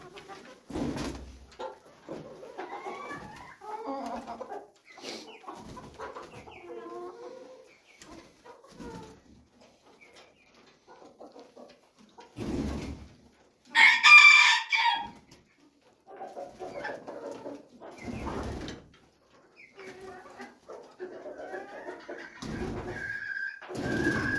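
Young roosters inside a henhouse give short, rough attempts at crowing mixed with scattered clucks and pigeon-like coos, a fairly close, irregular run of calls with one louder burst partway through.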